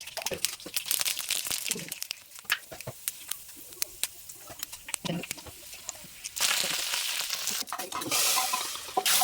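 Homemade Kerala buttermilk curry with eggplant bubbles in a pot on the stove, with soft clinking stirs and crackling simmer noises that grow into a steadier, louder hiss toward the end, without any talking.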